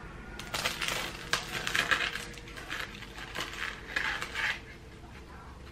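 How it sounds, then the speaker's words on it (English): Fried buffalo chicken egg rolls being sliced open, with crisp crunching and crackling bursts from the crust as a knife works through it, close and fairly loud, with faint clinks of plate or cutlery. "We gotta cut them open now."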